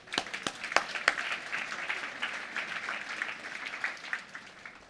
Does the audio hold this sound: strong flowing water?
no